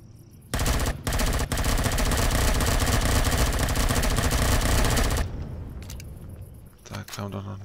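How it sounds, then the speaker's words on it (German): A minigun drone in the video game Empyrion Galactic Survival fires a rapid, continuous burst that rattles loudly for several seconds, then stops abruptly, leaving lower rumbling game sounds and scattered noises. "Da kam doch noch eine Minigun-Drohne."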